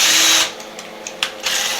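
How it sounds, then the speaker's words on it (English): Power drill boring into the wall of a sailboat during a refit, a loud whirring burst that stops, a few quiet clicks, then the drill whines up again, close and without talk. "My goal is to not drill through the wall and put a hole through the other side."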